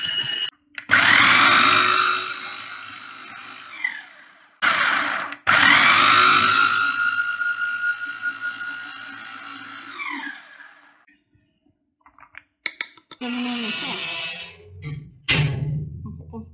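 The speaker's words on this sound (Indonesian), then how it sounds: "Sekarang kita blender dulu bahan-bahan." An electric blender grinds bird's eye chili and turmeric in loud, whirring bursts, starting and stopping several times with short pauses, then quieter clattering and rattling at the end.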